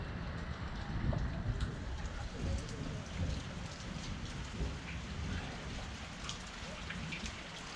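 Steady rain pours in the Jhelum valley of Azad Kashmir, with dense patter on surfaces and low thunder rumbling underneath, loud and continuous with no talk.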